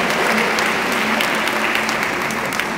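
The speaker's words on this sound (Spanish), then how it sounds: "un fuerte aplauso para ellos" Sustained audience applause at a community gathering in Guatemala, a thick, even wash of clapping with no breaks and some crowd murmur underneath.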